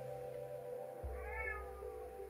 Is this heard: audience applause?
no